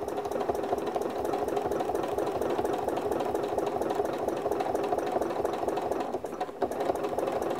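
A sewing machine stitches steadily while ruler quilting, its needle hammering in a fast even rhythm close by, then a brief pause and dip near the end before the stitching resumes.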